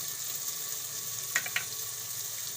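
Spices sizzle in hot ghee in a pan for broken-wheat vegetable khichdi: a soft, steady hiss with a couple of brief crackles near the middle, quiet and continuous with no talking.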